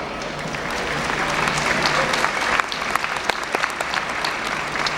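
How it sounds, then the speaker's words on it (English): A commencement audience applauds loudly and steadily, dense clapping from a large crowd in a hall that swells briefly and then holds. "Please wave to them and give them a round of applause."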